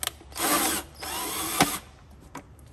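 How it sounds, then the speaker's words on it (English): A power tool or driver tightens bolts on a Chevrolet Cruze cylinder head during a head gasket replacement, two short close whirring bursts with a sharp clack between them and faint clicks after. "Now you can go around and tighten these up."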